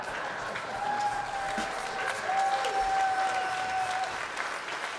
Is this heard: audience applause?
yes